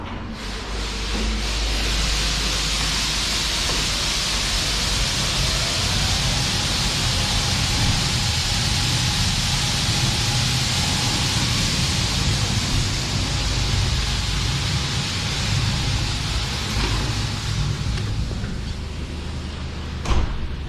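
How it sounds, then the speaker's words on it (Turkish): An automatic car wash runs over a car for a long stretch, a loud, dense, continuous rush of spraying water and brushing heard from close by, with low rumble underneath and no talk. "Evet arkadaşlar şimdi araba yıkanıyor"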